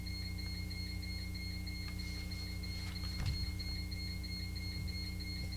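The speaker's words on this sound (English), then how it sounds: "Do you think that's why the buzzer's going off right now? Is that at the door?" A door buzzer drones as a steady electronic tone throughout a town board of selectmen meeting room, with faint thumps and shuffling underneath.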